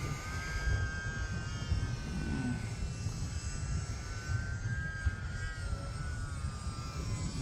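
A small UMX Turbo Timber RC airplane flies in gusty wind at about half throttle, its thin electric motor whine drifting steadily in pitch over a constant roar of wind, with no talking.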